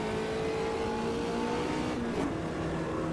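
A light race car's engine in the Automobilista 2 racing game, a steady mid-level drone on a wet track with a brief dip in pitch near the end, with no talk over it.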